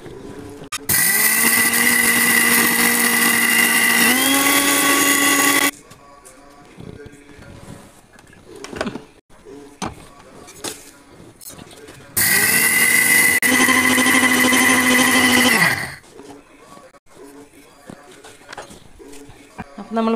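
A kitchen mixer grinder grinds roasted rice in two loud, whirring bursts of several seconds each, its pitch rising as the motor spins up. A person talks quietly in the pauses between them.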